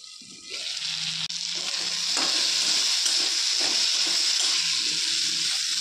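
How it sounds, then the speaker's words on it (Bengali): Potatoes frying with spices in a covered pan for a vegetarian lentil and banana-stem curry, giving a steady close sizzle that swells after a brief quieter start and holds loud and even, with no talking. "মশলা সহ আলুটা আমি কিছুটা ভাজতে থাকবো ঢাকা চাপিয়ে।"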